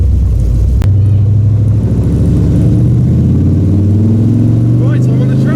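A car engine pulls away to join a parade of supercars on a race track, a deep steady rumble that climbs gradually in pitch as it accelerates, heard from inside the car.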